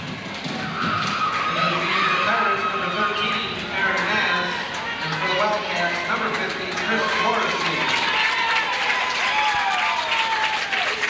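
A crowd at a 1988 high school basketball game between Montague and Hart applauds steadily with cheers, while an announcer talks over the sustained clapping.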